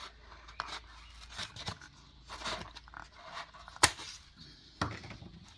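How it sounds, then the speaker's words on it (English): Scissors trimming a piece of egg carton shaped into a miniature terracotta planter: a few sharp close snips and crisp papery scrapes with quiet pauses between cuts. "I'll just finish that off with the scissors."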